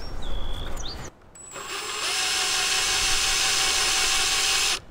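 A brief high whine and scrape, a short pause, then a power drill spins up and runs at a steady pitched whir for about three seconds before stopping, drilling screw holes through a positioning jig during a van build.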